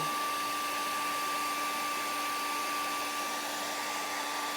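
A hairdryer blows steadily on acrylic paint, a continuous loud whooshing roar with a constant motor whine, close and unbroken for the whole stretch, with no talk.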